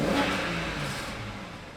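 Engine of a BMW E90 335i winter car revving briefly, a loud rushing roar that eases off and settles, with a faint fluttering whoosh from the wastegate.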